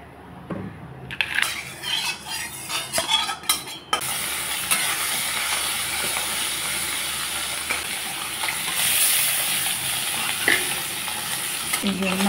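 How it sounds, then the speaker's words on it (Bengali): Pona fish frying in mustard oil, starting with a few loud clatters and stirring scrapes, then a steady, close, dense sizzle that keeps going alone with no voices. "এই যে মাছ আমি ভেজে নিচ্ছি।"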